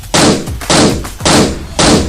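Four loud, evenly spaced cartoonish gunshot blasts fired at the comic hero Doga, each a sharp broadband burst with a brief booming tail, alone with no talk.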